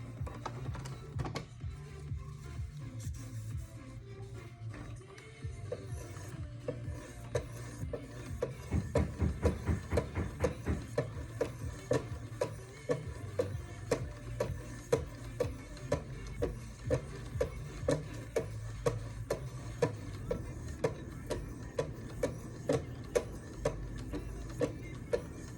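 A WE Knives Deacon blade, full flat grind, is stroked across 2200 and 3000 grit sharpening stones in a quick, even run of light rasping strokes that speeds up and steadies over the clip, with a faint low hum behind.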